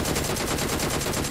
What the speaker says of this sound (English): Guy shooting from not even inside the compound